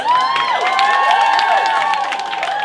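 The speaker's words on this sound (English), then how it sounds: "Give her a round of applause." An audience at a Baby Vogue battle applauds and cheers for a contestant, a loud sustained burst of clapping and shouts with high excited voices throughout.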